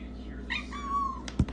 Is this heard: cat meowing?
yes